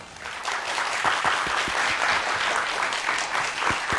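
A studio audience claps warmly to welcome a lecturer onto a Korean TV science lecture show, with dense, steady applause that swells quickly and holds for about four seconds.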